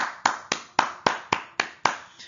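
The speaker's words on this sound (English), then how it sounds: "Give yourselves a round of applause." Single-person clapping at home, seven crisp, evenly spaced claps in a steady rhythm, close and clear with short decays between each one.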